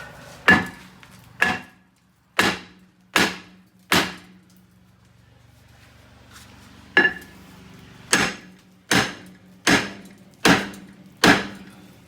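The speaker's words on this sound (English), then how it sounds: "Now we hammer it a little more." Sharp metallic hammer strikes ring out on a Buick Enclave rear brake rotor being freed from the hub, about ten loud, close blows, spaced roughly a second apart, with a pause partway through.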